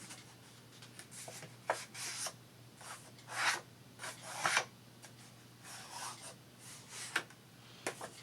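Paper being creased and folded by hand for a junk journal, with soft rubbing and rasping swipes in irregular bursts, fairly quiet over a low steady hum.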